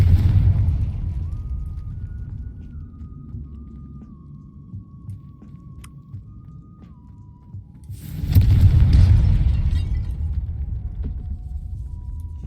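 A Confringo fire spell explodes in a video game set inside a spider-filled tomb: a low, droning hum gives way to a sudden loud, full-bodied blast with a rumbling roar that slowly fades, with no voices.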